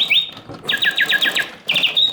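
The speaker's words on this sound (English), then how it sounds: "So both birds open and close their beaks and flap their tails, synchronized to the bird song." Mechanical bird song from an antique Bontems singing bird cage automaton: repeated bright whistled trills and chirps in quick bursts, with a short pause before the warbling resumes, close and fairly loud over a faint mechanical hum.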